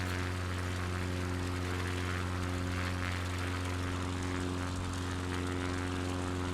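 Propeller bush plane droning in a flight-simulator game on an alpine trip, a steady, constant engine and prop hum with strong low tonal bands, heard alone without talk.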